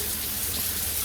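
Water pours steadily from a newly installed shower head in a bathroom, a brief continuous hiss and patter with no voices.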